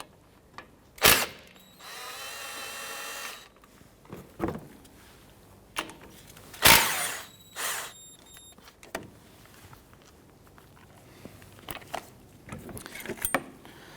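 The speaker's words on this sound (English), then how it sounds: "use a 17mm socket to go ahead and loosen and remove these slide pin bolts" A ratchet and 17mm socket working loose the brake caliper slide pin bolts on a 2010-2019 Ford Taurus: a few sharp metallic bursts and a longer buzzing run of clicks, with scattered tool clatter in between.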